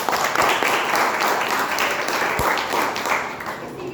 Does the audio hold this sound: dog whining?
no